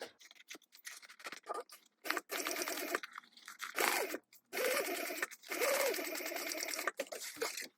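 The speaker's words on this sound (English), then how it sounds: "come back here and stitch it closed at 3/8 inch seam allowance again" A sewing machine stitches a vinyl tote seam at a 3/8 inch allowance, running in several close, steady bursts separated by short pauses, with no talk over it.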